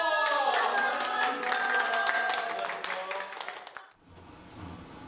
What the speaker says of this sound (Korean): 저도 수고의 박수를 보냈습니다